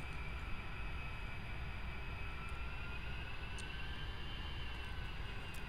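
A-10 jet aircraft in DCS World taxiing on a highway, a steady, even engine whine and rumble held at constant level throughout, with no talk.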